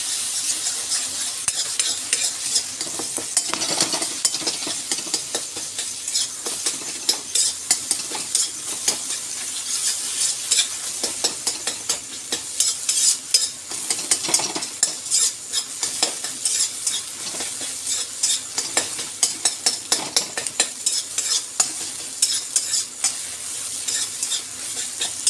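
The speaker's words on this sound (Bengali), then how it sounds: "ডিমটা দিয়ে ভালো করে নেড়ে নেড়ে সব ভুজিয়া মতন বানিয়ে নিতে হবে।" Egg stirred and scrambled in hot frying oil crackles with a busy sizzle while a utensil scrapes and taps the pan in quick, irregular strokes, close and continuous for the whole stretch.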